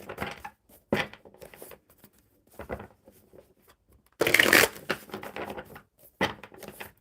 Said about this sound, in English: One more good shuffle for Surrendar.